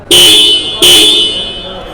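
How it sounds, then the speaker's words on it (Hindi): Dual horn on a 2023 TVS Apache RTR 310 motorcycle, sounded twice in close succession: two loud, bright, sustained honks, the second fading out slowly. "इसमें हमें डुअल हॉर्न देखने को मिल जाता है।"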